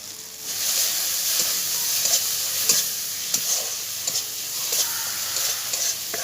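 Ground spices such as chilli, cumin and coriander fry with ginger-garlic paste in hot oil, giving a loud continuous sizzle broken by frequent sharp scrapes and taps of a stirring spatula, without any talk.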